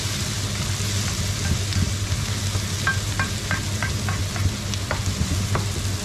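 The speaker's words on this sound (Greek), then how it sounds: "Το τηγανάκι μας ήταν ζεστό και προχώρησε γρήγορα το κρεμμύδι μας." Leek and onion fry in a hot pan for a shrimp orzo dish, a steady loud sizzle with scattered stirring scrapes and clicks, and no talking.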